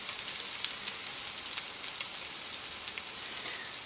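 Meat patties with onion sizzle steadily in a frying pan, a continuous close crackle with faint pops scattered throughout and no voices.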